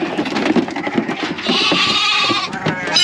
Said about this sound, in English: Lambs up top.